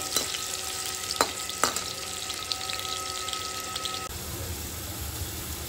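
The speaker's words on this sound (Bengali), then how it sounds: "আলুটা আমি লাল করে ভেজে নেব" Steady oil sizzling from potatoes frying in a pan, with a few sharp utensil clinks early on, before the sizzle drops to a quieter hiss.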